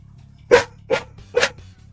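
Three sharp barks from a dog, nearby and loud, evenly spaced over about a second over a low background hum.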